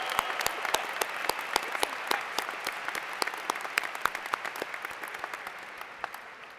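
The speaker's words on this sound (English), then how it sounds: "Let's give all of you a huge round of applause." Crowd at a university undergraduate commencement ceremony applauds graduates, a continuous, full roar of clapping with scattered crisp individual claps, steady and fairly loud, slowly easing toward the end.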